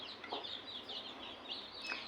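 Country chickens on a farm, with a hen clucking among her chicks; soft, repeated clucks sound close by over a steady background, with no talking.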